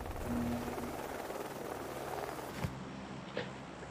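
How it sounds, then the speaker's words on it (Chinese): An airplane engine drones steadily before takeoff in a battle royale video game, a constant mid-level roar with a couple of faint clicks near the end and no talk. "飞机很快就要起飞了"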